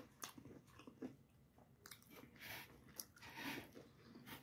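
Someone bites into crunchy Popeyes ghost pepper fried chicken wings close up, several soft crackling crunches and chewing sounds at a low level.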